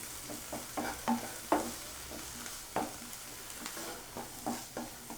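Finely chopped tomato pieces fry in a pan while being stirred, a low continuous sizzle broken by light, irregular scraping and tapping strokes, close and quiet, with no voices.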